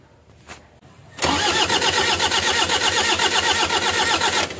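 Toyota Hiace van engine cranking loudly and steadily for about three and a half seconds, a fast rhythmic starter churn that never catches, after a short quiet stretch with a faint click at the start.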